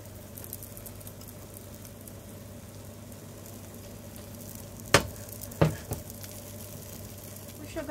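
Tamagoyaki egg roll cooks in a pan with a quiet, steady sizzle and low hum, broken by a few sharp scraping clicks as the egg is rolled, and a voice speaks faintly in the background.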